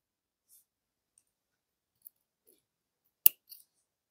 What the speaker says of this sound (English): And now we are going to cut this thread off.